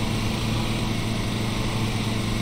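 Steady, loud engine drone of a lawn mower in Lawn Mowing Simulator, a constant buzzing hum running unbroken and close throughout with no talk.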